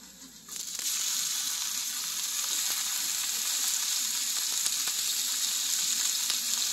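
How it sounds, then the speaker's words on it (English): Onions, chilies, garlic leaves and tomato fry in a pan with a steady, close sizzle that starts abruptly and holds at an even level throughout, with faint stirring clicks. "So now our onions, chilies and garlic leaves are frying off."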